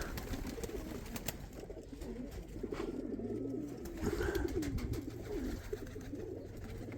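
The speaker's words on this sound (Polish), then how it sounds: "To tylko gołębie są." Domestic pigeons coo continuously in a loft, with low, rolling gurgles that overlap and swell in a steady, close chorus, plus occasional soft rustles and wing movements on a sunny day.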